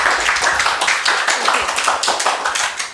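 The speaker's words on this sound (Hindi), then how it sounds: "प्रीत के लिए जोरदार तालियां" A room of students and mentors at a children's testimonial session gives a burst of dense, enthusiastic clapping, loud and close, continuing evenly and fading slightly at the end.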